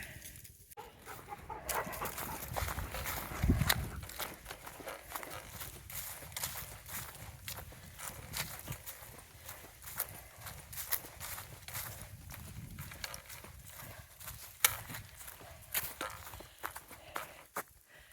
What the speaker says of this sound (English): there goes the horse